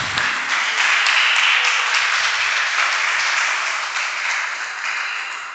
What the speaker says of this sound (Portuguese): Você pode ficar em pé no seu lugar e aplaudir o Senhor por isso.